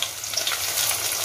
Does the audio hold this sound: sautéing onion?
yes